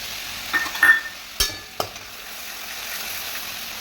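Onions frying in a pan as a paste of tomato and green chili goes in, a few sharp clinks and stirring scrapes early on over a low continuous sizzle.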